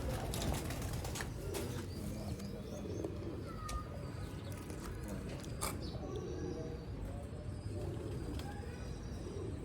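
Sialkoti black-mouthed pigeons coo repeatedly on a rooftop, with scattered chirps and occasional bursts of wing flapping against a steady background murmur.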